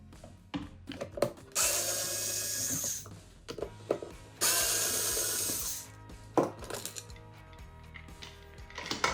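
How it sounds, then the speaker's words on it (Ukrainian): Two screws being unscrewed to remove the top cover of an ETIBREAK NBS series circuit breaker, heard as quiet clicks and taps with two longer whirring, grinding runs of a driver, close up and with no talking. "знімаємо верхню кришку, відкрутивши два гвинти"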